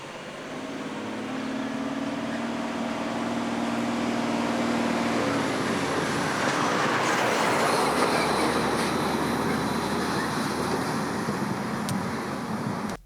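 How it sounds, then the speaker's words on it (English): A truck crossing a bridge early in the morning, a long, loud, steady rumble that swells to a peak midway and holds before cutting off, with a faint squealing tone in the first seconds. "And you can see there's some very definite sound there of that truck as it passes over."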